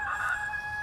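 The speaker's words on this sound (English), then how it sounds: "And there's the rooster." A rooster crows at middle distance, a single sustained call laid over a steady mechanical whine and background hum, with no talking.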